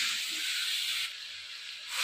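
Mixed vegetables frying in a pan for a Bengali boal fish-head curry give off a steady, close, bright hiss that dips slightly partway through and then swells again.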